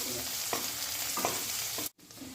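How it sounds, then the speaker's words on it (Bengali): Large onion pieces fry gently in a pan with a steady, soft sizzle, broken by a few scraping stirs and a brief near-silent gap before the sizzling resumes. "একটা বেশ বড় সাইজের পেঁয়াজ এইভাবে টুকরো করে কেটে নিয়েছি, সেটা দিয়ে হালকা করে ভেজে নিচ্ছি"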